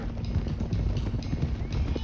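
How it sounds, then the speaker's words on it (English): Hooves of several stolen horses gallop in a steady, rapid clip-clop rhythm across open ground in the video game Red Dead Redemption 2, loud and continuous with a low rumbling bed beneath. "let's get these horses to Clemens Cove, quick, before we run into any more trouble"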